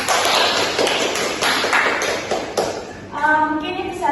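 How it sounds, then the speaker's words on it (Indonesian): A small group claps in a classroom during a biology microteaching lesson, giving a few seconds of dense, close, patting applause that fades as a voice begins speaking. "Beri aplaus untuk diri kita sendiri."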